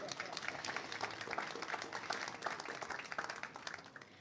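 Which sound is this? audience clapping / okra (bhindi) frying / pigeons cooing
audience clapping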